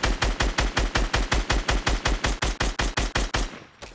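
Rapid automatic gunfire in a video game, a rhythmic burst of about twenty evenly spaced loud shots that stops abruptly near the end.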